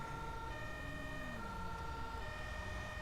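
A fire engine siren in the video game GTA V, modelled on a Belgian fire truck, wails steadily with layered rising and falling tones over a low engine rumble, with no talking.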